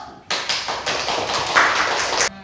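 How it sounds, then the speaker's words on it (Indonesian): Classroom applause from students cheering for their presentation groups, a dense burst of many hands clapping together for about two seconds, loud and steady, then stopping abruptly. "Ayo, sekarang kita beri aplaus."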